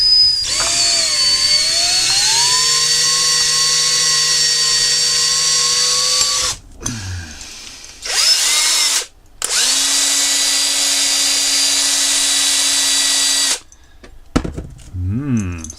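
A power drill enlarging a hole during a belt repair, a loud whining motor with pitch sliding as it loads up, cut by short pauses and restarts, ending in quick ratcheting spin-downs.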